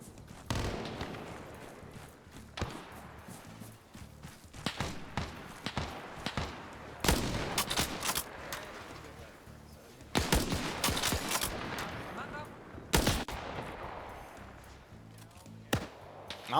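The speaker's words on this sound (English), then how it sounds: "Here we go, a 1907 rifle." Gunfire in an Arma video game using a 1907 rifle, mixed with other combat: scattered sharp shots and clustered volleys at varying distances, some loud cracks standing out over quieter background fire.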